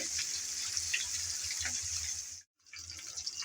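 Chicken pieces drop one at a time into hot oil in a pan, a loud, hissing sizzle that runs steadily, cuts out abruptly for a moment, then resumes.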